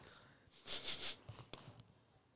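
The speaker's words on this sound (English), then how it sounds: "We're getting into the sniffs." Close, quiet sniffs as a person smells a bag of coffee beans for aroma: a couple of long inhalations followed by a few shorter, softer snuffs in a hushed room.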